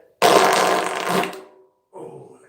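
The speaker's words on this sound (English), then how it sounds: "Oh, so that's the fart tube." A fart tube noise toy gives one loud, rasping, flatulent blast lasting about a second, then a shorter, softer sputter follows after a brief gap.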